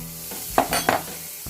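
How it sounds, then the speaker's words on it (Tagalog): Butter hitting a hot pan for chicken gizzard and liver sisig, giving two short bursts of sizzling with a brief stir between, close and fairly loud, no talking. "Okay, I put in the butter."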